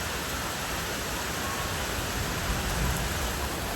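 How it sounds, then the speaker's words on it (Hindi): Heavy rain pouring down in a steady, dense hiss with no breaks, loud and close, with no talking over it. "यह देखो कितनी तेज आने लग रही है बारिश।"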